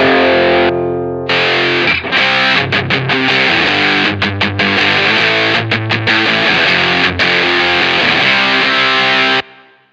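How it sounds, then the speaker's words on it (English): Electric guitar through a cranked Tube Screamer overdrive pedal rings out loud and saturated, with chords and choppy muted strums over about nine seconds before cutting off abruptly. "Or even if I crank the Tube Screamer."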